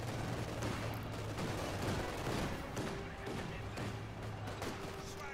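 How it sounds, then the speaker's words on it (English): Infantry squads of Grenadiers trade gunfire in Company of Heroes 2, with dense, continuous rattling bursts of rifle and machine-gun fire layered over one another at steady loudness, with no pauses throughout. "Grenadiers exchanging fire eventually, then gonna kill each other."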